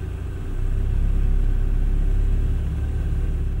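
A UAZ Hunter engine idles, heard from inside the cabin: a steady low rumble and hum that swells slightly after the first half second, then holds an even drone.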